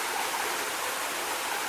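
Water flowing from a mill flume down into a creek at Cable Mill in Cades Cove, Tennessee, a steady, close, full rushing wash with no pauses.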